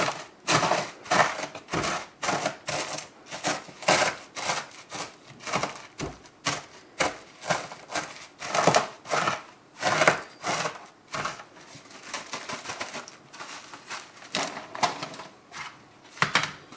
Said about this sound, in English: I'm going to crush a few more pork rinds